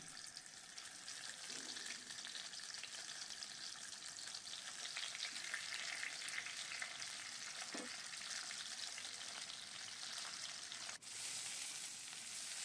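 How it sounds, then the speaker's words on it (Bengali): Rohu fish heads coated in salt and turmeric frying in oil, a dense continuous crackling sizzle heard close and unbroken, with a brief clink near the end and no talking. "এবার আমি মাছের মাথাগুলো নুন হলুদ মাখিয়ে ভেজে নিচ্ছি"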